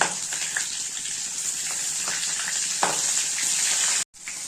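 Whole cumin, dried and green chillies, cinnamon, cardamom and cloves fry in hot oil for a katla fish kalia, a steady close sizzle that holds without pause and cuts out briefly just before the end.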